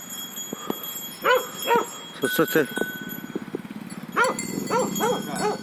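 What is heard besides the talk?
dog barking near sheep pasture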